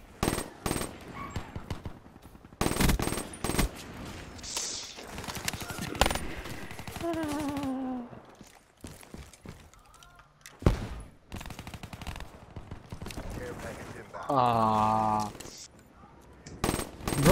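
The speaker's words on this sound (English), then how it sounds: "What are those shots?" Gunshots ring out in a video game, with loud rapid bursts and single shots spread through the clip, close and punchy, mixed with other game effects while people talk over them.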